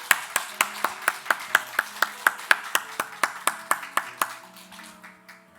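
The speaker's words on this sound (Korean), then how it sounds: "우리 잠깐 일어나서 인사 나눠주시면 축복의 박수 드리겠습니다." A church congregation at an Easter Sunday service claps in unison, about eighteen sharp, evenly spaced claps at a brisk steady rhythm, fading out at the end with faint murmuring.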